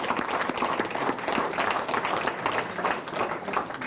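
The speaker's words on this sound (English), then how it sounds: "I'd like to give them a big round of applause." Audience applause at a rodeo hall of fame induction during Fiesta Days, a steady dense patter of many hands clapping throughout, moderately distant and without speech over it.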